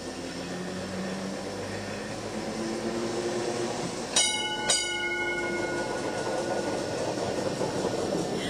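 A rare vintage American Birney tram runs at the Bendigo Tramways Museum, rumbling and whining steadily with rising motor tones, and two sharp bell-like clangs sound near the middle, heard close from on board with no talking.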